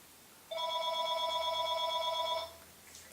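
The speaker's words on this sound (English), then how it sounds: "some asshole is calling my phone" A landline telephone rings steadily and loudly for about two seconds, a continuous electronic trill that cuts off abruptly, with no talking over it.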